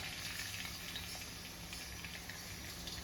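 Salt-soaked sliced onions fry in vegetable oil with a dense, continuous crackling sizzle, close and even throughout, with no talking.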